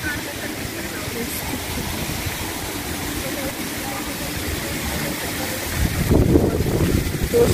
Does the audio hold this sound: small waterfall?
yes